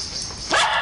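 A dog gives one short, sharp bark up close, sounding after a brief stretch of quiet room noise.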